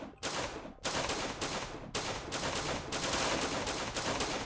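Enemy gunfire in the PC shooter Skipchaser, loud bursts of rapid shots in repeated volleys separated by brief gaps, dense and close, no talking.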